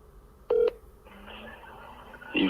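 Telephone keypad tones sound as a friend's number is dialled: one loud, clear beep, a softer tone, then another sharp beep at the end, close up with no voices.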